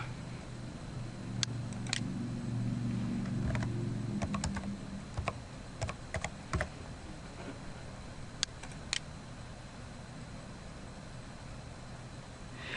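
Someone types a transaction ID on a computer keyboard at a point-of-sale terminal, with scattered light key taps and clicks in short irregular bursts over a faint steady hum, close but quiet, with no speech.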